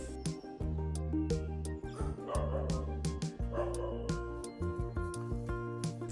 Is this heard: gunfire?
no